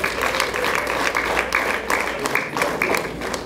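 Wedding guests clap together in steady rhythmic bursts, moderately loud, with some voices mixed into the background.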